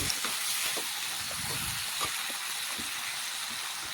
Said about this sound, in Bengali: এখন নাড়াচাড়া করে ভালোভাবে মশলার সাথে মিশিয়ে নেব এই দেখুন এইভাবে মশলা মেশাতে মেশাতে আমি একটু রান্না করে নিচ্ছি